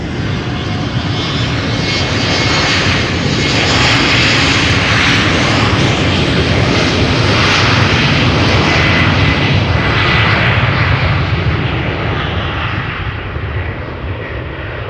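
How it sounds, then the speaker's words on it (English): A British Airways City Flyer Embraer 190 airliner passes at Amsterdam with a loud, continuous jet engine roar that swells and holds steady for the whole stretch, nearby and with no other sound over it. "So Embraer 190, Speedbird flight 8454, BA City Flyer going to London City"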